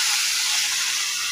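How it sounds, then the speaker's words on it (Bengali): Water splashed into frying spices in a pan for pangas fish curry, giving a loud, continuous close-up steam hiss with no talking. "আমি কিন্তু অল্প পরিমাণে পানি দিয়ে দিলাম"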